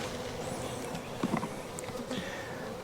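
A honeybee swarm drones on hive frames, a dense, continuous buzz close at hand, with a few soft knocks and rustles near the middle and no voices.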